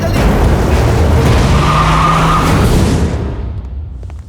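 A car roars off with tires skidding and squealing, loud and close for about three seconds, then the engine noise fades quickly into the distance.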